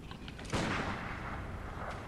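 Gunfire in Bloodborne: The Old Hunters, a single sharp report rolling into a booming reverberant tail, fairly faint and set against a continuous low background rumble.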